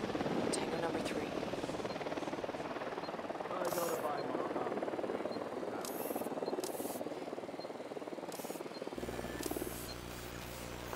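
Enemy helicopter approaching in the video game Ghost Recon Wildlands, a steady, loud rotor thrum and buzz filling the whole stretch, with a low droning engine tone taking over near the end.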